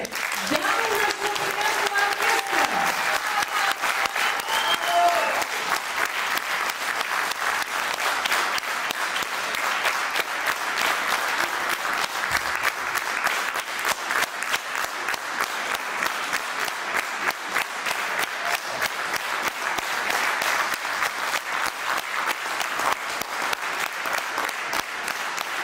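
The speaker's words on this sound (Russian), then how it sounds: "подарим им самое ценное для артиста – громкие и бурные" Loud, sustained applause and ovation from a concert audience for a folk instruments orchestra, dense clapping filling the hall steadily throughout with a brief voice or instrument tone near the start.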